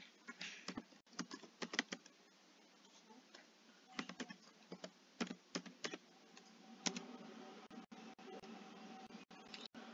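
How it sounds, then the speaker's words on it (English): Typing on a computer keyboard to enter a scripture reference, quick irregular key clicks in short bursts with pauses, close and quiet, with no talking. "let me just type it in."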